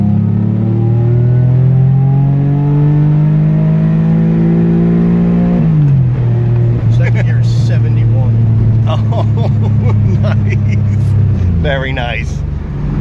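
A car with a rebuilt F5M33 gearbox and OBX limited slip accelerating hard through second gear, the engine note climbing loudly before a shift and rising again, with voices talking over it.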